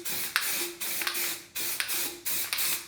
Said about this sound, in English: So I took a can of matte lacquer spray and applied it to the forks.